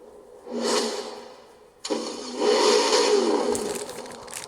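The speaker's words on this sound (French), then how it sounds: "Ouh, joli bruit de V8." A V8 car engine in Forza Horizon 4 fires up and settles into a deep, throaty idle, then revs louder with a rough burbling growl, close and steady.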